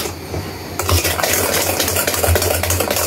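A spoon mixes a batter by hand for pitha, with a coconut option, steady close scraping and stirring strokes against a bowl, a continuous rhythmic swish with occasional clinks.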